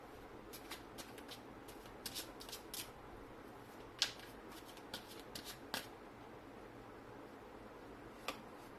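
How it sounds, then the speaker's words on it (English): Tarot cards are shuffled by hand in a quiet room, giving a series of soft, irregular riffling flicks and sharper card snaps spread across the stretch, faint and close. "I'm just quickly giving your cards a shuffle,"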